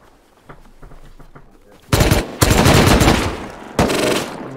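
Gunfire in the survival game Rust, faint scattered shots at first, then loud, close bursts of rapid automatic fire with brief pauses between them.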